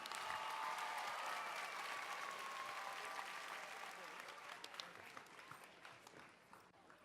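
Applause for the third-place best overall team at the Tech Challenge 2014 awards ceremony for grades 5 and 6, a broad crowd round of clapping that starts full and gradually tapers off, with some voices mixed in.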